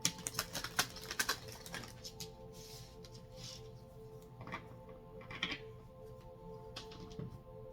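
Rapid riffling clicks of a card deck being shuffled up close, a dense crackling burst at first, then softer scattered taps.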